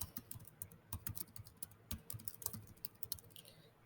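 Fingers tap out an online library catalog search on a computer keyboard, a quick irregular run of close, crisp keystrokes with short pauses, no talking.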